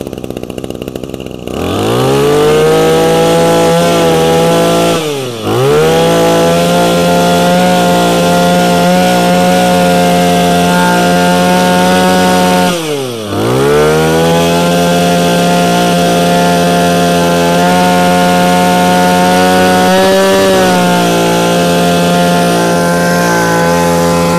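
A Robin 23cc brush cutter engine runs at high revs, a loud, buzzing two-stroke drone held close by, briefly dipping twice as the throttle drops before climbing back to full speed.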